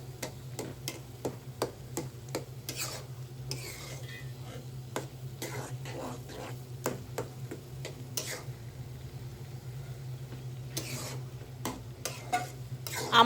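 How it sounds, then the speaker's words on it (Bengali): Raw mango chutney stirred in a pan, a quiet series of irregular scraping clicks and knocks from the utensil against the pan over a low steady hum. "নাড়াচাড়া করতে করতে এটা হয়ে যাবে"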